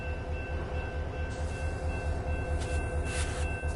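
A Metrolink train on the San Bernardino Line at Rialto station in Train Sim World 5, a steady low engine rumble and hum with faint mechanical whine and a brief brighter hiss, no talking.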